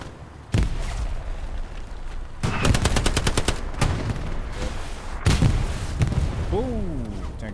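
World War II-era small arms rattle across a snowy Elsenborn Ridge in the game Hell Let Loose, with loud single shots and a fast machine-gun burst from close range, plus a brief voice near the end.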